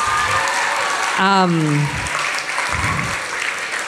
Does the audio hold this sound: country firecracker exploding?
no